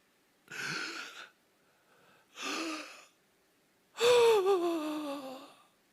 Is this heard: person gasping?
yes